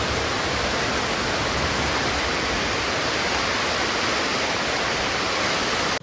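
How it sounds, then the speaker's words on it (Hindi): Fast-flowing water rushes steadily after heavy rain, a loud, dense, unbroken roar close by with no pauses across the whole stretch. "अब आवाज़ सुनो कितने तेज़ी से पानी चल रहा है गाइस।"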